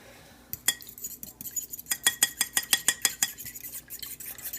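A fork stirs and mixes ingredients seasoned with pepper in a bowl, giving a quick run of sharp, rhythmic metal clinks against the dish that build to a steady beat before trailing off.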